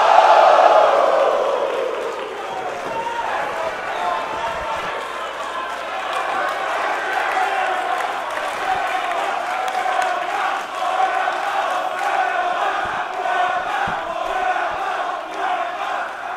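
A wrestling arena crowd roaring and cheering during a professional wrestling match between Penta and Cody Rhodes, a loud sustained wash of voices that swells at the start and holds steady throughout, with commentary over it.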